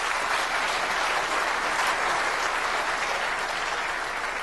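A snooker crowd at the 2006 World Championship final bursts into sustained, even applause that fills the hall from start to finish, rewarding a positional shot with the cue ball.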